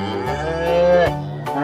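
A black-and-white toy cow gives a single drawn-out moo, loud and close, from a toy animal-transport truck set, ending with a couple of soft clicks.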